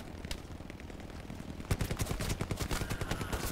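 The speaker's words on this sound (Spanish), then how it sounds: "aquí ya nos estamos pegando de tiros y no hemos ni llegado" Gunfire erupts in the World War II shooter Hell Let Loose, scattered distant shots giving way to rapid, loud bursts of automatic fire and close, sharp reports in quick succession.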